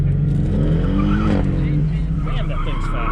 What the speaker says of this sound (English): This Cayman sounds so good.